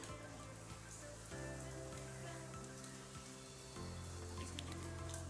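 Long dough strips deep-frying in hot oil over a high-to-medium gas flame for a quick pizza snack, giving a steady close crackling sizzle with small shifts in tone and no talk.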